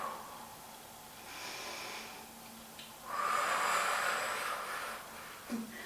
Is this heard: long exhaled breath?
yes